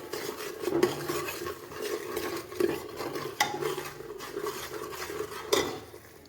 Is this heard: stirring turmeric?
yes